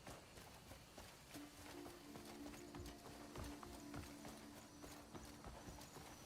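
Horse hooves clip-clop in a steady, moderately quick rhythm in the video game Crimson Desert, fairly faint and close, with a sustained tonal sound running under it.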